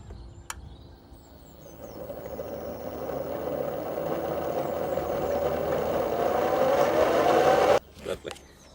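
A small mobility scooter drive motor whirs, building slowly and steadily louder before cutting off abruptly, followed by a few clunks and handling noises.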